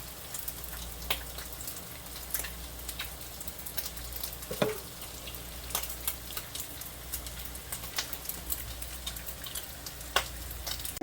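Squash, potatoes, peppers, onions and bacon fry in a pan with a steady, close crackling sizzle, sprinkled with sharp pops and spits throughout, alone with no talk.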